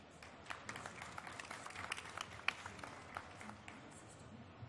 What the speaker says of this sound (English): A small round of applause or a big round of applause for the panel